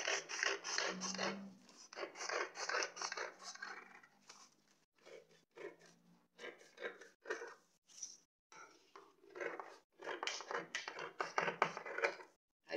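Scissors cut through a drafted paper pattern for an off-shoulder straight blouse, giving repeated close, crisp rasping snips in bursts with short pauses between, fairly quiet.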